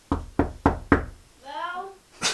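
Four firm knocks on a bedroom door in a family house ring out in an even, close rhythm, followed by a brief voice reply and another short sound.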